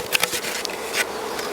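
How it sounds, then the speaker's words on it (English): Honey bees buzzing steadily nearby as a nuc is transferred into a hive, a dense droning hum with a few louder passes as individual bees fly close. "we can tap these bees off the roof"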